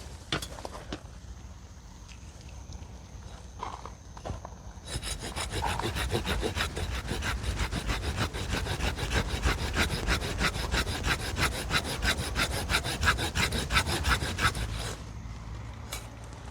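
A hand saw cuts through a tree branch during garden pruning. A few slow rasping strokes give way to about ten seconds of fast, steady back-and-forth sawing close by, then it stops.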